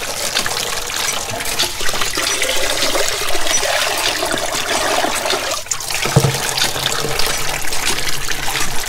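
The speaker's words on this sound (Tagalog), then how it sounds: "Ito, panghugas lang natin yung poso." Water from a hand pump (poso) used for washing at a Batangas island beach campsite, a continuous close, loud splashing gush running steadily throughout.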